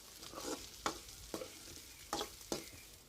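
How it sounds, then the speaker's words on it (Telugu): Spiny gourd pieces are stirred in a frying pan, with soft sizzling broken by about five sharp scraping strokes at an irregular rhythm, close and fairly quiet, with no speech. "ఇప్పుడు వీటిని అయితే వేసుకుంటున్నాను. చూడండి, ఇవి మంచిగా కలుపుకోవాలండి."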